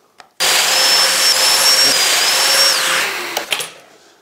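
A Festool DF500 Domino joiner cuts a 15 mm deep mortise in wood, starting abruptly into a loud, steady high-pitched motor whine that winds down and stops, with a few clicks and knocks after.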